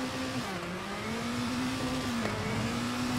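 A Hyundai i20 rally car on soft tires in the WRC 7 racing game, at the Germany rally, holds a steady high-revving engine drone that rises slightly and stays loud and continuous throughout.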